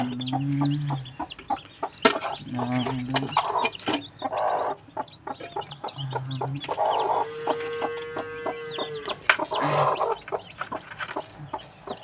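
Hens and day-old chicks on a poultry farm, with repeated low clucking from adult hens under a dense patter of high peeping from many chicks, close and continuous with no talk.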